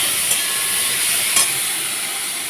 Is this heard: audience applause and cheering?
no